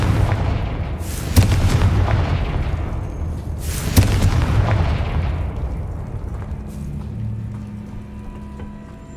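Two booming fire-blast explosions from the Confringo spell in the Hogwarts Legacy video game, loud bursts roughly two and a half seconds apart, each trailing off into rumble, with a low humming tone left at the end.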